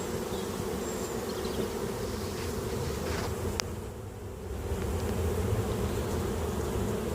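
Honey bees at a hive super during spring cleaning of a beehive, a soft, steady buzzing drone from many insects, fairly faint and continuous with a brief dip midway.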